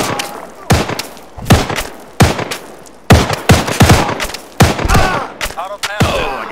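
A beanbag shotgun fires again and again in a video game, about a dozen loud, sharp blasts in an uneven rapid rhythm, each with a short thumping tail, close and dominant.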